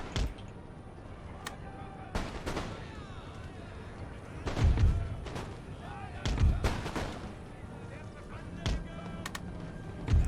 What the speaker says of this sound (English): We're getting some good volleys off there